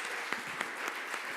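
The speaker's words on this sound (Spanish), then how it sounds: "Un aplauso para Milena, porfa, y para el Señor." Church congregation applauding during a Christian sermon, a soft, fairly quiet patter of hand claps with a few sharper individual claps standing out.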